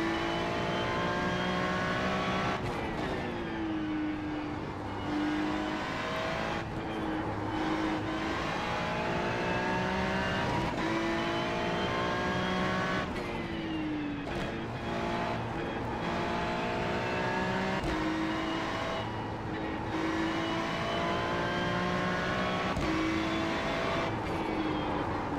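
A race car engine in the iRacing sim at Mugello, droning loudly and continuously for the whole stretch, with repeated gear shifts and rising revs between dips as the car brakes and accelerates through corners.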